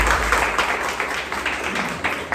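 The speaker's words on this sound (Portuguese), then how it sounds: "Aplauda a Jesus bem forte." A church congregation applauding together, producing steady, dense clapping that fills the space and stays loud throughout, with no voices standing out above it.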